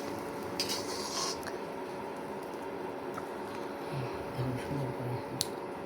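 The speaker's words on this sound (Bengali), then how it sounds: "আমরা প্রত্যেকটা পিস উঠিয়ে নিচ্ছি" A spatula scrapes and clinks faintly against a frying pan as fried egg-dipped bread pieces are lifted out one by one, with soft irregular taps under quiet talk.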